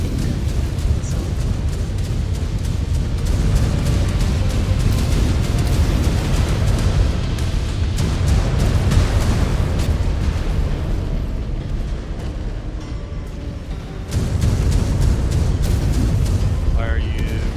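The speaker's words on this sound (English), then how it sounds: "Incoming missile" Missile explosions in the mech combat game Mechwarrior 5: Clans give heavy, continuous rumbling booms and bursts, loud and dense throughout, mixed with game radio voices and a player talking.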